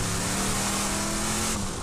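A car engine revs hard and steady in Borderlands, a loud sustained roar with a droning tone that holds for under two seconds, alone without talk.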